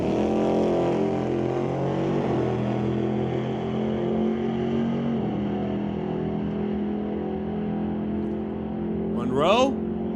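At an NHRA drag race, a 1969 Acadian faces a Model A race car, their engines a sustained, droning roar that rises in a rev near the end, with a voice talking over it.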